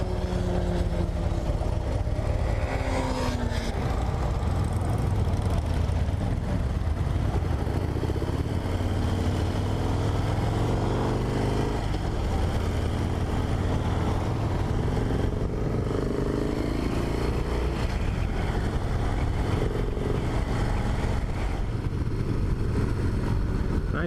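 A 2017 Harley-Davidson Dyna Low Rider S with a rubber-mounted V-twin engine rumbles steadily while riding, loud and continuous with rising and falling revs and wind rush throughout, no talking.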